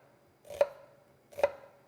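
A knife dicing an onion on a cutting board, two distinct crisp chops about a second apart, close and clear with no voices.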